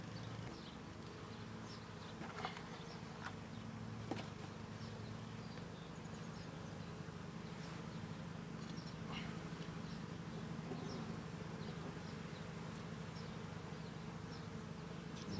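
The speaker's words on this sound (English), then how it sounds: "Got a couple bees hanging out on top." Honeybees buzz around an open hive during a month-two inspection, a faint, steady drone with scattered nearby bees passing close, no talk.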